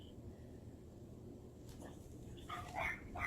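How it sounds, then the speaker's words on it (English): A dog barks faintly in a quiet indoor room, with a few short, distant-sounding barks bunched near the end over low background hum. "Sorry about the dog."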